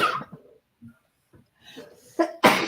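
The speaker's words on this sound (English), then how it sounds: "I'm gonna sneeze." After a few soft breaths and a short intake, a single sharp sneeze bursts out at close range, loud and abrupt.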